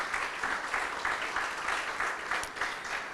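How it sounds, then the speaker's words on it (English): Audience applause at a Johns Creek City Council campaign launch event, an even spread of clapping that holds steady for a few seconds at moderate loudness, with no talk over it. "One more round of applause for our amazing speaker."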